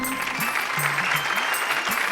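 A short burst of applause in a Bhojpuri comedy web series scene, steady clapping from a group with a voice speaking briefly underneath.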